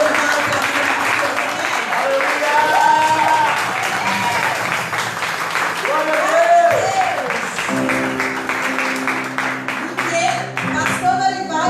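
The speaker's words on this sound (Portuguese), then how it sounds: "Alguém pode aplaudir ao Senhor pela vida do pastor Dorival, pela vida do pastor" Church congregation applauding during a family worship service, a steady wash of clapping filling the hall alongside music and voices, sustained throughout at moderate loudness.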